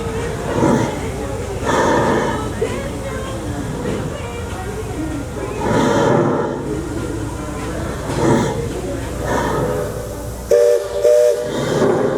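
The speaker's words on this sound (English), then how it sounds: "I can hear the train, but I can't see it." A steam paddlewheel riverboat chugging along with hissing steam and a whistle at a theme park, heard under talking voices.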